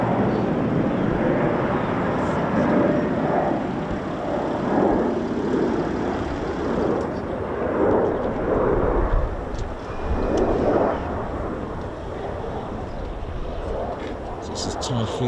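An RAF Typhoon FGR4 jet on a low approach roars steadily at an air show, a broad continuous engine rumble that swells and fades slightly over the whole stretch as it passes, with crowd and wind noise mixed in.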